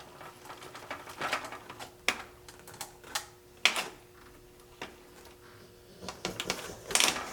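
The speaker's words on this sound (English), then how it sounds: "you can hear a popping in the differential" A Traxxas UDR RC truck differential pops as it is turned by hand, giving irregular sharp clicks and snaps close up, spaced unevenly over a quiet background.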